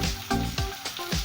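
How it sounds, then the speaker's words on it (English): Peppers, seasoning cubes and crayfish frying in hot oil for an unripe plantain porridge: a steady sizzle interrupted by several sharp knocks of a spoon against the pot, close and moderately loud. "We're going to be frying everything inside this oil because we want our flavors to just come out."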